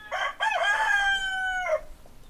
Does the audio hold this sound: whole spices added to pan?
no